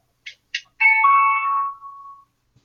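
An alarm going off: two short, bright beeps followed by a long sustained tone that slides lower and fades, loud and clear against silence.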